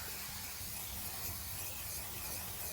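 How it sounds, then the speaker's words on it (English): Cooking spray hisses steadily onto a pan for a few seconds, a continuous close, fairly soft aerosol rush without pauses or voices. "let's go ahead and spray our pan really quick so they don't get stuck"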